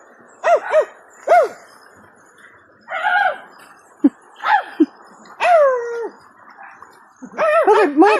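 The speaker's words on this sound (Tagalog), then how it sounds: "Bakit may aso dyan?" A dog in a forest gives a series of short yelping barks and whines, loud and close, spaced out with quiet gaps between them.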